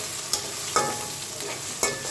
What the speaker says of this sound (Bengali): পেঁয়াজ রসুন কাঁচা ঝাল ভালো করে আমি ভেজে নেব।